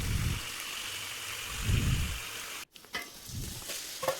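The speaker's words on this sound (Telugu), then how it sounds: "సో చికెన్ వేసుకొని దాంట్లో కొంచెం ఉప్పేసి ఇంకా దాంట్లో కొంచెం పసుపేసి" Chicken cooking in a pot with salt and turmeric for biryani makes a continuous close bubbling sizzle, with soft pulsing swells and a brief break partway through.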